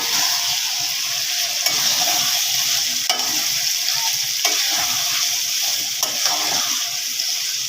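Liver curry (kolija bhuna) being stirred in a pan, a steady close sizzle with soft scraping strokes and occasional clicks of the utensil, continuous with no talking.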